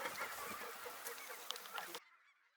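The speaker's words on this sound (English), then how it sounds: "Geese just don't want to leave us alone." A flock of geese honks in overlapping calls at a Saskatchewan hunting outfitter in snowy weather, moderately close, then cuts off abruptly to a faint remainder.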